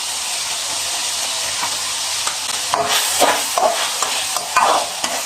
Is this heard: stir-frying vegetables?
yes